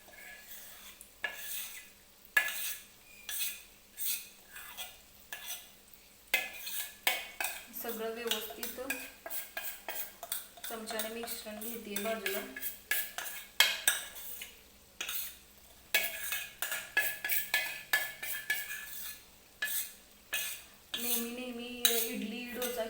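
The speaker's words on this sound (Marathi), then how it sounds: "चमच्याने व्यवस्थित सगळं मिश्रण कढईमध्ये टाकून घ्यायचं आहे आपल्याला" A spoon scrapes and clinks against a kadhai while urad dal and rice batter is transferred into it, giving repeated close, sharp metallic taps and scrapes with brief pauses, alongside a soft background sizzle.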